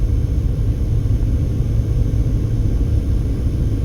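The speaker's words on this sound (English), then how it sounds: "the motor getting a little loud there as we're going up into these foothills" Car engine droning loudly and steadily from inside the vehicle as it climbs into foothills south of Henderson, Las Vegas, a continuous low rumble with no talk.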